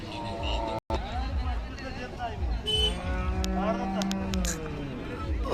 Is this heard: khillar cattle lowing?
yes